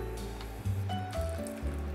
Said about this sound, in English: Now, just enough water to cover everything.